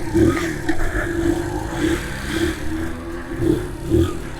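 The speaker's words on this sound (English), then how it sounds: "Okay, we're away on our little Dax 90 after a few kicks" A 2005 Honda Dax 90 replica motorcycle's small engine runs after a few kicks of the kickstart, a steady mid-pitched putter with a few throttle blips, close and fairly loud.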